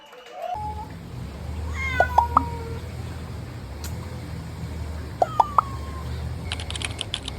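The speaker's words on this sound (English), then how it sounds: "I just probably very much annoyed this cat." A cat meows several times in short bursts outdoors at night, set against a steady low rumble of ambient noise, with a few clicking sounds near the end.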